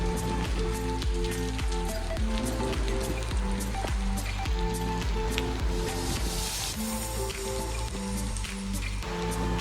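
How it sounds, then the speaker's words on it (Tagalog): Heavy rain pours steadily during flooding in Saudi Arabia, a dense and constant wash of water noise with a continuous low hum underneath. "Malakas ang ulan, pero yung ulan ay tuwing-tuwing."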